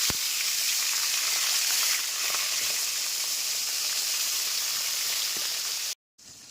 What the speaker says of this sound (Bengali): এবারে এক এক করে পাবদা মাছগুলো ছেড়ে দেবো